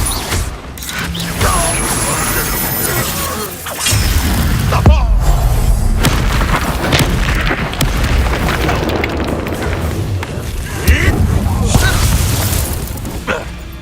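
Confringo fire spell blasts in the video game Hogwarts Legacy, a sequence of loud booming explosive impacts with rumbling low end, repeating over several seconds amid busy game combat sounds.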